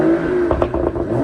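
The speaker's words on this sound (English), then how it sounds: "I'm going to give it a little rev for you so you can have a listen" A 2014 BMW M235i with M-Sport exhaust idles with a steady low rumble, then gets a quick blip of throttle that swells briefly before settling back, heard close and loud.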